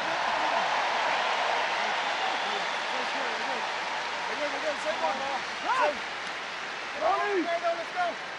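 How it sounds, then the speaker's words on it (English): Stadium crowd at a rugby final applauding the player of the match, a broad steady wash of clapping with a commentator's voice talking over it. "Generous applause as the crowd acknowledge the player of the match for Ryan Baird"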